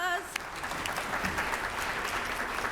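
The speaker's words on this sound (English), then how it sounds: "Big round of applause." A forum audience at an event on Ohio's healthcare worker shortage claps in a dense, even burst of applause that holds steady for a few seconds, close and moderately loud.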